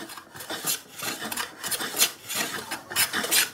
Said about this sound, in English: we're planing that down